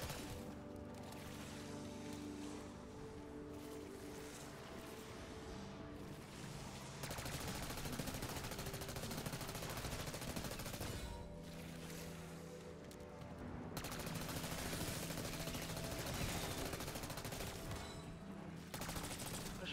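Shotgun and other gunfire in Black Ops 6 Zombies crackle in rapid bursts over a steady game music bed, growing louder in stretches, with no voices.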